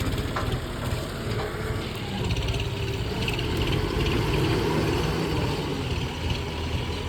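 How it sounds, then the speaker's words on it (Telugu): A tractor engine runs steadily at a work site where earth is being dug and loaded, a continuous low rumble with rattling mechanical texture and no pauses, fairly close throughout. "ఇంకా ట్రాక్టర్ వేస్తుంది."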